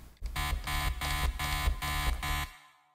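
An electro house synth bass patch with oscillator restart via gate off pumps out seven even, gritty, buzzing stabs in a steady rhythm, then stops cleanly. Heard loud and alone.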